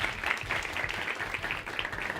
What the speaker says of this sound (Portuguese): Uma salva de palmas a todos vocês.